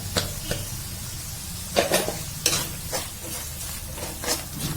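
Chilli powder and coriander powder frying with clams in a pan, a steady close sizzle broken by several sharp scraping stirs of a spoon, with no voices.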